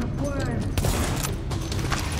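Rapid gunfire in Tom Clancy's The Division, a fast string of shots and bursts rattling under a voice talking over the action.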